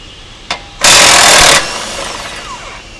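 A power tool, likely an impact wrench, buzzes in one loud burst of about a second, removing the lower strut bolt nut on a 2021-2025 Chevrolet Suburban's rear suspension, followed by fainter metallic rattling.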